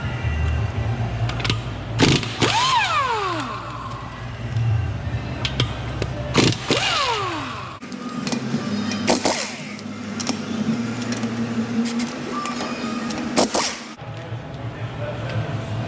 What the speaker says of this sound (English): Get your lug nuts off